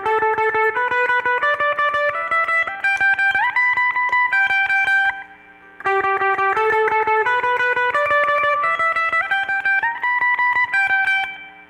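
Slow electric guitar tremolo picking from a solo, with effects. Rapid, evenly repeated notes climb in steps through two phrases, loud and up close, separated by a short gap with no voices.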